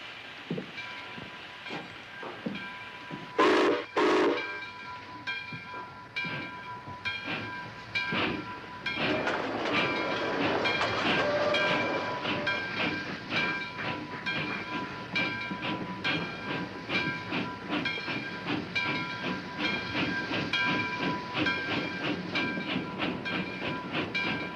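A steam train chugs and hisses steadily in a Western TV series scene, with a brief whistle blast early on, then continuous rumbling, puffing and clanking of the moving train.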